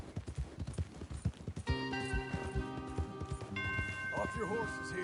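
Horses gallop with rapid clip-clop hoofbeats in Red Dead Redemption, then give way to a sustained musical tone and game sounds while people talk over it.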